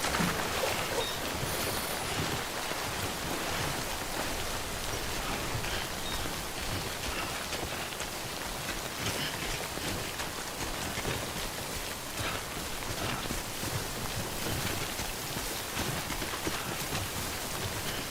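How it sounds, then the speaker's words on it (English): Steady timefall rain in the video game Death Stranding, a dense, continuous wash of rainfall hissing across the whole clip at even loudness with no voices over it. "Don't stay out in the rain longer than you have to."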